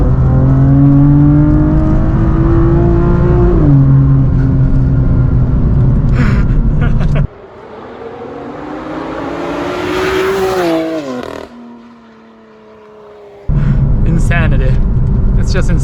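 A BMW M4 F82 accelerates hard in fourth gear, its engine droning loud and rising in pitch, then dropping off abruptly before surging back, heard from inside the car.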